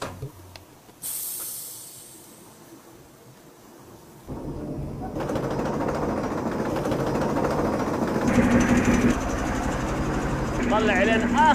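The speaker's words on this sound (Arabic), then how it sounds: "مرحلة التجفيف، ماكينة مخصوصة لتجفيف السجاد." A machine made for drying carpets after washing runs with a steady broadband hiss and engine-like drone that rises and fills the sound from about four seconds onward, continuing loud to the end with talk over it.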